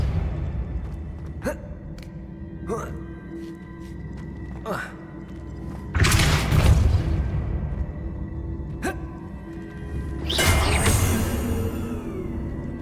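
Depulso spells are cast in the Hogwarts Legacy video game: sharp repeated clicks, then two broad whooshing blasts that surge and fade, with a voice heard in the background.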